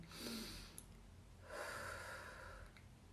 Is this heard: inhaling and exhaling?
yes